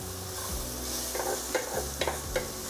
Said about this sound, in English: we're gonna add our onions. And we're gonna saute these onions here for about 3 to 5 minutes